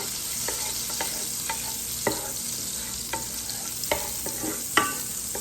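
Butter and olive oil are stirred together in a pan, with a soft steady sizzle under regular scrapes and light clinks of a utensil against the pan. Close and moderately quiet, with no voices.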